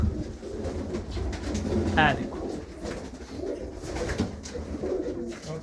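Large female pigeons coo in a loft, their low, soft calls repeating under a man's nearby speech and background rustling.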